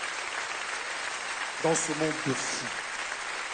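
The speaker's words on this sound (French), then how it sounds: "Et continuez à applaudir très très fort à ma table." An audience applauds after a bubble show act on stage: a steady, dense wash of clapping fills the whole stretch while someone speaks over it in French partway through.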